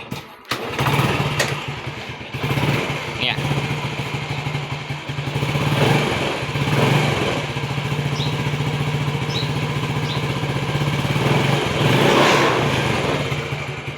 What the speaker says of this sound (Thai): ผมจะสตาร์ทเครื่อง